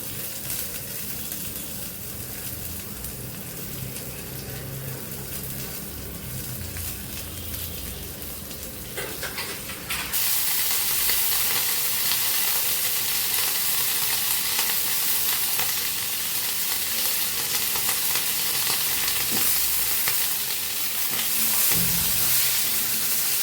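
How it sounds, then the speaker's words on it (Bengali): Diced carrot, eggplant, beans and potato sizzle in a pan, a steady crackling fry that jumps louder about halfway through and keeps hissing to the end, with no talking. "সাথে একটু ভাজি করে নিচ্ছি।"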